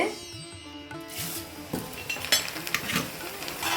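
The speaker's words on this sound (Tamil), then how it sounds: "அவளை போட்டு எடுத்துக்குவோம் பொரிச்சு" Flattened rice (aval) frying in hot oil for a homemade mixture snack, a bright hissing sizzle that swells up after a quieter start, with stirring scrapes and light clinks of a utensil nearby.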